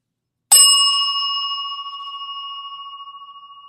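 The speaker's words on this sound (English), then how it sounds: "Where's my bell?" A single bell is struck once and rings out clearly with a long, slowly fading metallic tone, close and loud, alone without talk, in a live radio talk-show setting.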